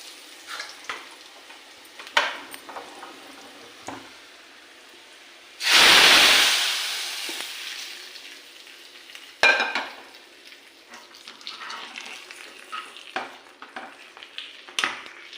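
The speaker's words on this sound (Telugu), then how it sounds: "ఇప్పుడు ఈ సాంబార్లో పోసేస్తానండి తాలింపు." Hot tempering with asafoetida is tipped into a pot of sambar, setting off a sudden loud sizzle that fades over a few seconds, framed by quieter stirring and utensil clinks.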